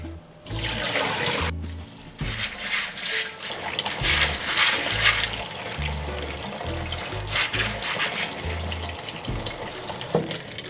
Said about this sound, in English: Rinse the soybeans in water.